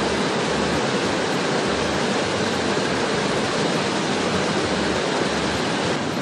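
Ryumon waterfall, a 20-metre drop in Tochigi, roars as a steady, dense broadband rush heard from an open-air hot-spring bath, constant and unbroken with no voices.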